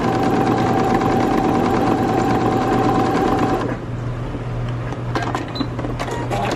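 Domestic sewing machine stitching chiffon fabric for a dress repair, a loud steady whirring hum that drops off partway through, followed by softer mechanical clicks and handling noises.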